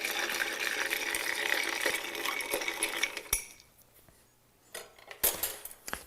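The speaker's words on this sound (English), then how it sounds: "I'm going to take and stir instead." Ice clinks and rattles against a mixing glass as a Prohibition cocktail of gin and Lillet is stirred, a busy close jingle that stops midway, followed by a few sharp glassy taps and knocks.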